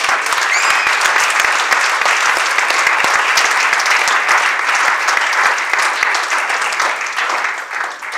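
A church congregation at a Monday evening service in Renton breaks into sustained, loud applause that holds steady for several seconds before tapering slightly at the end.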